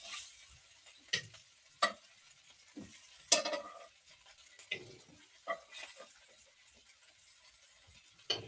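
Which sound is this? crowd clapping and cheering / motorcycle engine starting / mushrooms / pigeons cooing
mushrooms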